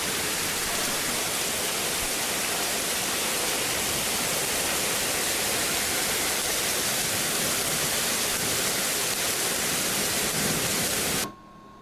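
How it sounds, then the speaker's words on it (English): Heavy rain storm in Detroit, a dense, loud, continuous roar of downpour that cuts off abruptly at the end. "they'll have to wait the rain out"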